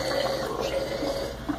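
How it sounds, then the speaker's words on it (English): A large hose sucks water from the surface of an aquarium during a surface water change, giving a steady, close, gurgling watery rush that runs unbroken throughout. "Because it's a big hose, so it's sucking it like really fast."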